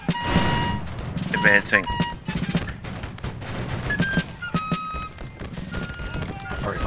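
Musket fire rings out in the Battlecry of Freedom game, scattered sharp shots and volleys cracking across a noisy battlefield while players talk over it.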